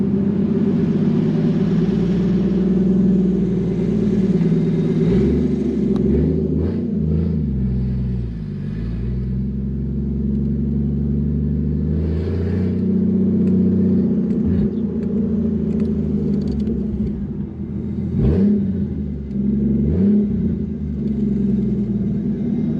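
A 600hp Toyota Supra MK3 accelerates in first gear, its engine rumbling loudly and steadily from inside the car, with the pitch rising and falling as it revs through long pulls.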